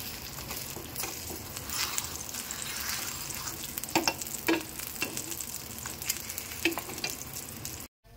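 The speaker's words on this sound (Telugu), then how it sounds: "తర్వాత లో ఫ్లేమ్లో వేగనివ్వండి" Moong dal and foxtail millet breakfast frying on a low flame, a steady close sizzle with light crackles and a few soft scraping clicks, no talking.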